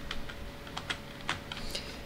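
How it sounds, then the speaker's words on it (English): Computer keyboard keys pressed during play of the flying game Superflight: a run of light, irregular clicks at close range, steady over game background noise, with no speech. "I'm managing to do it pretty well with the keyboard"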